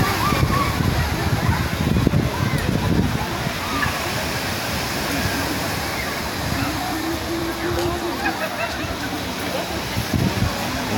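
Sea waves at a busy beach in Lazarevskoye, Sochi, splash and wash continuously close by, a dense watery roar with voices of people talking mixed underneath.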